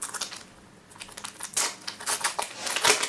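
Crinkly plastic wrappers on McDonald's 25th anniversary Pokémon booster packs tear and rustle close by in quick, uneven bursts, growing busier toward the end.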